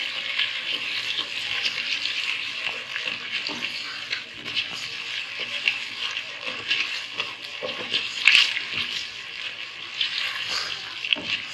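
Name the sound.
chicken pieces being fried with sugar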